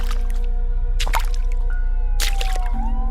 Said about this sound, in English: I heard what sounded like footsteps in the still water of the basement